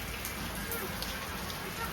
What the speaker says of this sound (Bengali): সকাল থেকে বৃষ্টি আছে, সকাল থেকে বৃষ্টি।